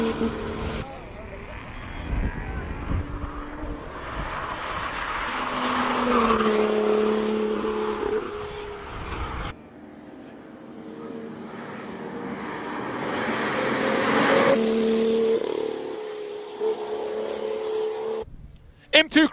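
Porsche 911 race car on a Cape Town hill climb, the engine rising and falling through gear changes in two passes that swell and fade, with a commentator talking over it.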